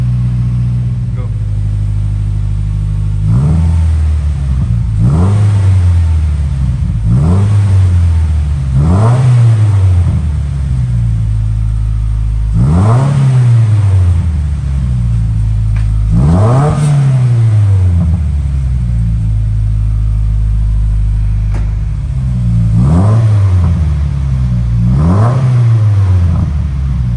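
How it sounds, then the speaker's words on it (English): Subaru WRX with a newly fitted Tomei exhaust revving from a warm idle, a series of about eight sharp throttle blips each rising and falling back, loud and close, with voices talking between revs. "We're gonna let it warm up a little and then give it a few revs."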